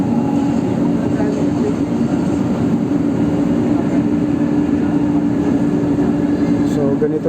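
An MRT train running at near street level in Quezon City gives a steady, loud rumble with rail hum. It continues throughout and is joined by a brief brighter squeal near the end.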